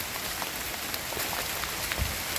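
Steady rain falls on a mountain hiking trail descending from Puncak Mangu, a dense, even hiss of drops close around with a few heavier splashes and no voices.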